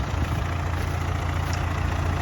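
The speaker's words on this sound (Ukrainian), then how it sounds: "тобто трактор взагалі без напряга ходить" MTZ 892 tractor pulling a PLN 3-35 plow about 30 cm deep through a field, its engine a loud, steady low drone with an even throb and no strain, with no voices.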